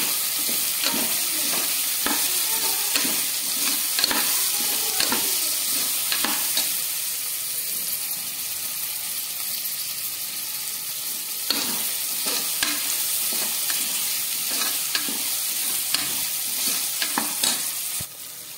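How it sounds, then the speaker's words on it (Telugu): Soaked peas frying in a pan with ginger garlic paste, a steady close sizzle broken by repeated scraping stirs and clinks of a spoon, with no talking. "వేసుకొని బాగా ఫ్రై చేసుకోవాలి."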